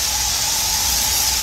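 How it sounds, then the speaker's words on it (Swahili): A can of Boxer insecticide gives one continuous, close and loud aerosol hiss that lasts about a second and a half before cutting off abruptly. "Boxer spray. Wadudu wote. Wadudu wanaoruka na kutambaa."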